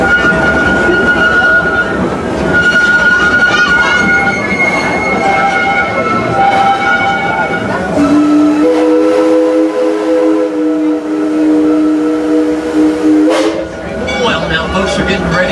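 Six Flags Railroad green train rolling along steadily with loud rumbling wheels and rail noise, a sustained tonal whistle-like squeal rising partway through and continuing under the running train before fading near the end.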